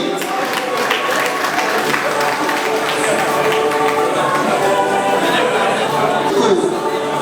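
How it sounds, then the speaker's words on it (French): Audience at a Catholic mass and vows ceremony for consecrated religious in Boma, DR Congo, applauding in a steady continuous wash of clapping alongside crowd chatter, with voices heard throughout. "On peut applaudir."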